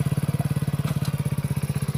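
A motorcycle engine running close by, giving a rapid, even train of thumping exhaust pulses that carries on steadily at a constant pace.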